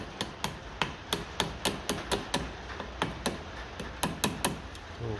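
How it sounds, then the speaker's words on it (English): A small flat-faced hammer taps the metal of a 1953 Lucas D3A4 distributor repeatedly in quick, uneven bursts of sharp, close clinks, with no voices. "I have to get a small hammer now, a little flat bit on it, and just give them a dunt in"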